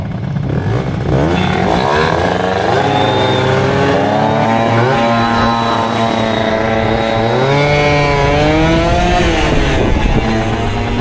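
Piaggio Zip SP2 scooter with a freshly fixed fuel tank, its small two-stroke engine loud and close, revving hard and rising in pitch as it pulls away, steady buzzing drone with shifting tones, no talking.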